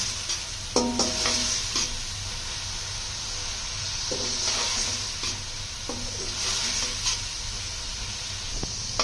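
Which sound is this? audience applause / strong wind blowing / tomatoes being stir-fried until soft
tomatoes being stir-fried until soft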